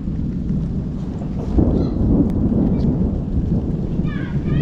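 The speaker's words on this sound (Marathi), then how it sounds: "विजांचा कडकडाट आणि पाऊस आता सुरू झालाय मंडळी" Heavy first monsoon rain pours down in rural Konkan with low rumbling thunder throughout, dense and close, with brief faint voices near the end.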